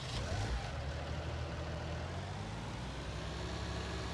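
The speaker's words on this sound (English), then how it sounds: "Sounds like a Lamborghini tractor to me." A Lamborghini tractor in Farming Simulator 19 runs with a steady, low, droning engine rumble that stays even and continuous throughout, with no voices.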